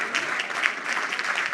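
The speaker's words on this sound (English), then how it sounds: "Just give them a huge round of applause." A keynote crowd gives a brief burst of applause, a dense, even spread of many hands clapping at moderate volume with no talk over it.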